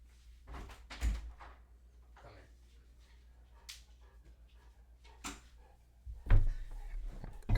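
A room door opens and shuts in a home with a dog trying to come in, giving a few separate knocks and thuds spread out in time, the loudest near the end, with quiet room sound between them.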